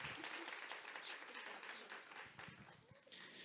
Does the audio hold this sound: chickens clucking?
no